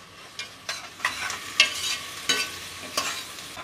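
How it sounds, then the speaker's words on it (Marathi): Onion, tomato and dried coconut fry in a pan for a Koli-style mutton rassa, a constant sizzle broken by repeated scraping stirs at an irregular rhythm. "आता यामध्ये आपण खोबरं घालूया आणि हे सर्व साहित्य आपल्याला तांबूस करून घ्यायचं आहे"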